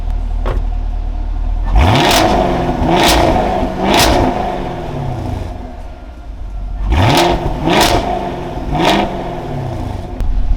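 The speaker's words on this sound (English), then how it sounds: "jump in the car and rev it up so you guys can get an idea of what this stock exhaust sounds like" A Ford Mustang GT500 engine revs up repeatedly in bursts, each rise roaring then falling back to idle, close and loud through a stock exhaust.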